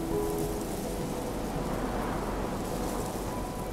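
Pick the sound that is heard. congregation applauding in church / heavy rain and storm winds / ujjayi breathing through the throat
heavy rain and storm winds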